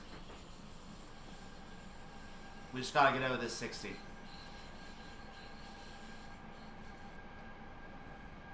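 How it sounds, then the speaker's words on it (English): A train runs along a fast line on the early city run from Munich to Garmisch-Partenkirchen, with steady rolling rumble and a brief, loud burst of wheel squeal near the middle, while someone talks over it. "We're going to be on some fast railroad here"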